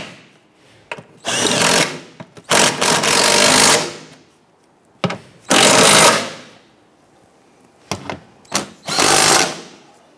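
Bolts are being tightened on a 2011-2021 Jeep Grand Cherokee 3.6L V6 during a coolant temperature sensor replacement, with loud close bursts of a power driver whirring in several separate runs of one to two seconds.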